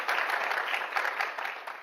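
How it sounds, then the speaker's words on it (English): Brief, moderately quiet applause from an audience welcoming panelists at a campus discussion, a soft even patter of clapping that tapers slightly toward the end. "give them a round of applause."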